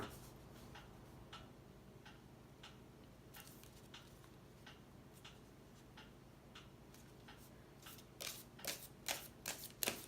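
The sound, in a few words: shuffling a deck of oracle cards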